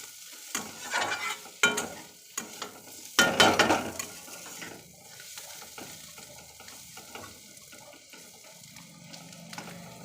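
Fish and onions fry in a pan and a utensil stirs them, giving sizzling and crackling with bursts of louder scraping near the start and a softer sizzle afterwards, all close by.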